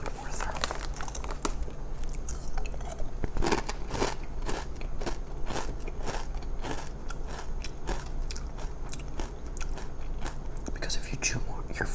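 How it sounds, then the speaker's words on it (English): Spicy potato chips being chewed close to the microphone in an ASMR setting, crisp crunchy bites repeating in a steady rhythm alongside bag crinkles, with soft whispered talk mixed in. "Chew my food more thoroughly."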